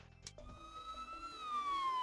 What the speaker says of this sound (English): several police cars zoom down the street, sirens wailing